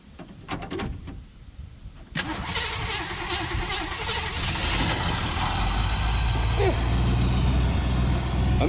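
A 1958 Chevrolet Biscayne hot rod engine catches after a restart and settles into a steady, smooth idle that grows fuller and louder, with a brief voice early on.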